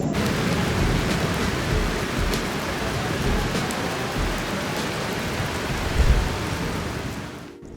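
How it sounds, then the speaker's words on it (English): Rain in Singapore, a dense steady roar of heavy rainfall with a faint low rumble, loud and unbroken across the whole stretch. "While waiting for the rain to stop"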